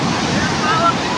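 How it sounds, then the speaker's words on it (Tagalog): Broad rushing wash of ocean surf fills the short clip, steady and fairly loud with no voices. "Pigilan mo nga yung alon."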